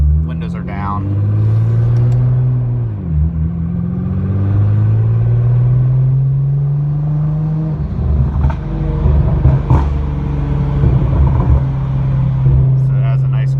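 A Nissan GT-R fitted with a Fabworxs 4-inch exhaust cruises at normal driving speed with the windows down, its deep, steady exhaust drone rising and easing slightly throughout, heard up close from inside the car.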